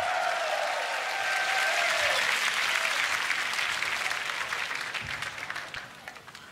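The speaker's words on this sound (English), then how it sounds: "Make some noise for Marvelous." Audience applause and cheering after an under-18 beatbox battle final, a loud sustained roar of clapping from a large crowd that slowly thins and fades toward the end.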